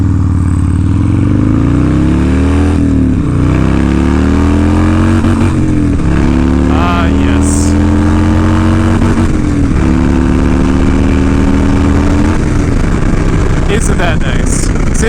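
A Harley-Davidson FXR motorcycle rumbles loud and close, its V-twin engine repeatedly revving up and dropping back to a lumpy idle, with someone talking over it.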